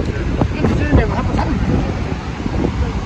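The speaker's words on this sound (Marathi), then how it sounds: "आणि समोर समुद्र आहे आपला, एकदम खवळलेला समुद्र आहे" A rough, churning sea in front of a beach resort at Da Nang gives off a constant broad roar, heavily buffeted by wind against the microphone, with a voice speaking over it.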